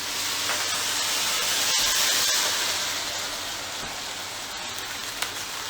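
A pan deglazed off the heat with carbonated Shanti's ginger drink gives a steady, loud sizzling hiss that slowly fades over several seconds, with no talking.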